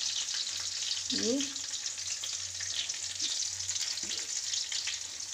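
Green chillies fry in a pan with a continuous close sizzle and hiss. Soft stirring scrapes come and go, and a voice speaks one brief word.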